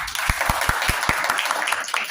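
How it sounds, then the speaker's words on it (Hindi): Audience at a church Christmas program applauding a crime branch special cell officer: a steady wash of many hands clapping close by, with a few heavier individual claps thumping through at a fairly even pace, no voices. "एक बार जोरदार ताली बजाइए"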